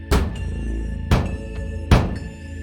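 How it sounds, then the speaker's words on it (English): Knocking bangs from inside a closet: three heavy, booming thuds spaced about a second apart, each ringing out briefly before the next, close and loud with no voices. "The knocking started to get louder with each bang."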